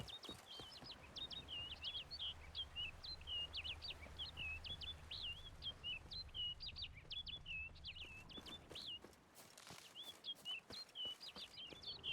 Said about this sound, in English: Bird flew off over the hill.